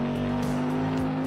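A steady, buzzy car engine drone in the driving game BeamNG holds a constant pitch throughout, with a faint tire squeal sliding underneath.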